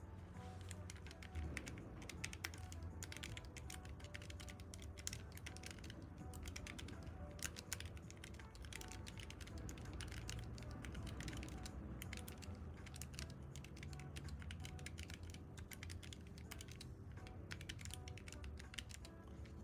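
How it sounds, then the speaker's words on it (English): Rapid, continuous typing on a computer keyboard, with dense, even clicking of keys at close range running the whole time without a break. "So I'm just gonna go ahead and do some typing for you"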